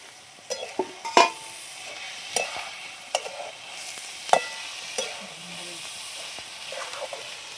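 A spoon stirs coconut chutney ingredients with lavangi chillies and coriander frying in a pan, giving sporadic scraping knocks over a soft continuous sizzle, close and fairly quiet, with no talking.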